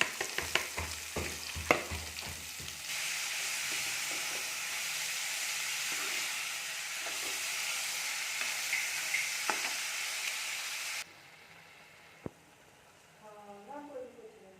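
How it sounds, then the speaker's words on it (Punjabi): Long-sliced onions hit a pan of frying cumin. A few stirring knocks come first, then a loud, dense sizzle holds for several seconds before dropping to a quieter crackle. "ਆਪਣਾ ਜੀਰਾ ਭੁੱਜ ਰਿਹਾ ਹੈਗਾ ਤੇ ਲਓ ਜੀ ਆਪਾਂ ਇਹਦੇ ਵਿੱਚ ਪਾਤੇ ਪਿਆਜ਼"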